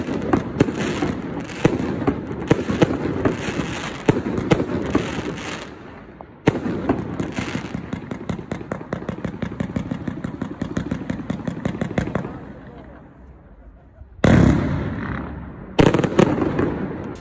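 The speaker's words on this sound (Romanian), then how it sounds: "Seara de bal a chimiștilor oneșteni s-a încheiat cu un spectaculos foc de artificii." Fireworks cap off a chemists' ball in Onești, Romania, with rapid crackling bursts and sharp bangs in dense volleys, pausing briefly before louder booming blasts resume near the end.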